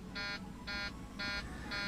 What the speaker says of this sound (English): What's that buzzer?